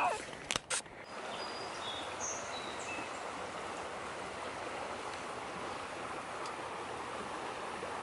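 Creek water flows in a steady broadband rush that fills the whole clip, with a few brief knocks and handling sounds near the start.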